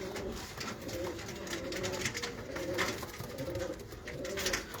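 Pigeons coo continuously inside a loft of breeding cages, soft overlapping throaty calls at moderate distance over a busy background of fluttering and shuffling.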